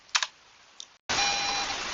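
A computer keyboard on a Linux command line sending input to an Arduino gives two quick key clicks and a lighter tap, then a sudden steady electronic hiss with a faint tone cuts in.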